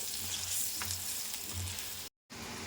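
Spices tempering in hot oil with turmeric for a temple-style tamarind pulihora gravy, a close, continuous crackling sizzle with a brief dropout near the end.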